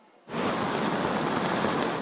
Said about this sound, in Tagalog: Perwisyo pa rin sa mga motorista at residente ang malakas na ulan at baha sa Valenzuela.